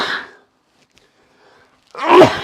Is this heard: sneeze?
yes